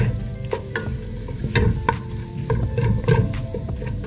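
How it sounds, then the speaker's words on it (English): A spoon stirs flour into a cream of broccoli and kale soup mixture in a pot, giving soft repeated scraping and knocking strokes at a steady, moderate level with a faint sizzle underneath. "Get that flour mixed up well in there."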